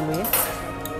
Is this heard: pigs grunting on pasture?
no